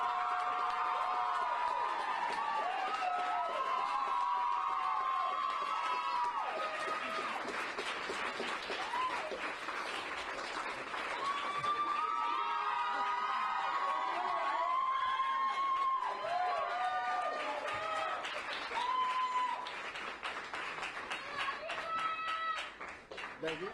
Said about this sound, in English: Steps back, people start clapping again.